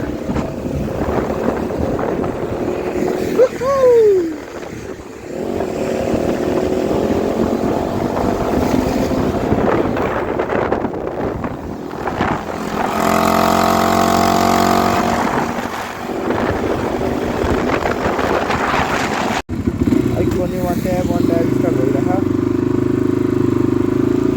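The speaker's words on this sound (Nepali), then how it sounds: "फाइनली साथीले बाइक राइड हान्ने रे, म चाहिँ पछि बसेर।" A motorcycle ride with a passenger on the back near the Nepal border at Sunauli, a steady engine drone mixed with heavy wind rush, loud and continuous, with talking over it.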